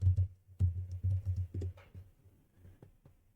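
Rapid typing on a computer keyboard while working in AutoCAD, close-up with dense bursts of key clicks that thin out toward the end, alone without talk.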